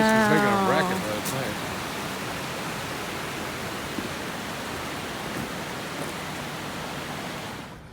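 A swollen stream runs after heavy rain with a steady, loud broadband rush of water that holds even and unbroken, with a brief tonal chirp at the start before the flow takes over.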